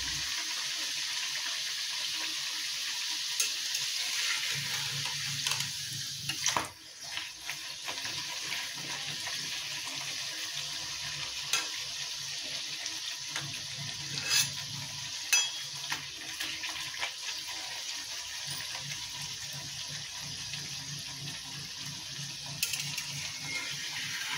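Khari puris frying in hot oil, giving a steady bright sizzle that carries throughout with occasional small pops and clinks.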